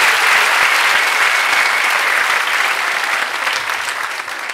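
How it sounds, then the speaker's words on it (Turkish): A studio audience of a Turkish comedy show applauds the writer Şahin, a dense, loud burst of clapping that holds steady and then gradually tapers off. "Şahin'i bir kez daha yazdığı için alkışlıyoruz."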